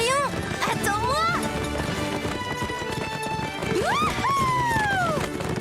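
Horses gallop with rapid, rhythmic hooves clip-clopping, mixed with neighing and whinnying, while voices shout over the running horses.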